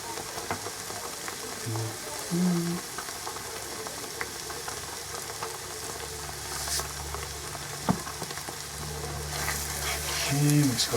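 Spices for chicken tikka, including Kashmiri chili, chili powder and salt, sizzle steadily in a hot pan while being stirred, with faint scraping and a low continuous fry throughout.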